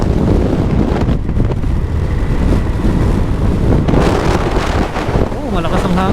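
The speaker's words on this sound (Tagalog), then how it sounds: "Malakas ang hangin." Strong wind buffets the microphone with a loud, steady roar while riding a Kymco GD 300 scooter, its engine humming underneath throughout.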